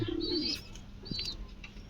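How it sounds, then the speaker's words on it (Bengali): Lahori pigeons, one pair among others, give soft, faint coos and a couple of thin high chirps in a quiet loft, with low background noise. "এখানে দেখতে পাচ্ছি আর এক জোড়া লাহারি কবুতর"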